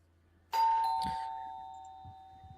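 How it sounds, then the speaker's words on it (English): A doorbell chimes once in two tones, a bright ding-dong that rings out and slowly fades in a quiet room, followed by a few soft knocks. "Oh, we've got the doorbell"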